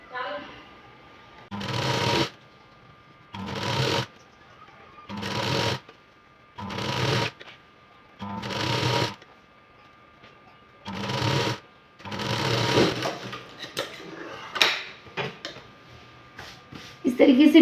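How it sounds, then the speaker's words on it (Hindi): A sewing machine stitching a blouse's main fabric to its lining in repeated short bursts of rapid whirring, each about a second long, separated by pauses. Lighter handling clicks and rustles of fabric follow the stitching runs. "उसके बाद हम चारों तरफ स्टिच लगाकर मेन फैब्रिक और अस्तर को ज्वाइन कर देंगे"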